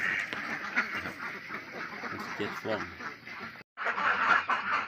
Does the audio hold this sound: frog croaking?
no